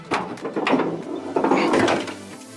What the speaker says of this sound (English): give her a nice little tug, and the hood opens